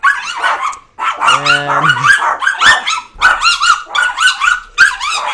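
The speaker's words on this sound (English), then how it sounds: "our dogs freak out for some reason when people are leaving our house" Pet dogs barking and growling in an excited outburst as people leave a house, repeated loud close barks and yips with a brief growl, and a voice briefly heard among them.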